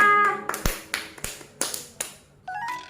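Rhythmic clapping at a children's Good Friday church service, about eight sharp claps in a steady beat, close and fairly loud, with a brief musical tone near the end.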